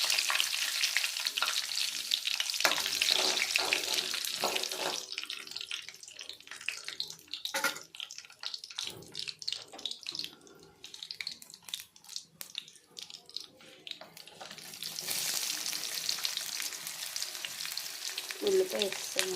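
Onion fries in hot oil for coconut curry, giving a loud, continuous sizzle that fades in the middle. Scattered clicks and stirring knocks come through before the sizzle swells again near the end.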